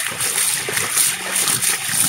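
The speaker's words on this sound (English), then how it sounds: "we're getting about nine inches of spray out of the bucket" A submersible pump drives water spraying out of the top of a bucket, a continuous close hiss and splatter of falling water lasting a couple of seconds.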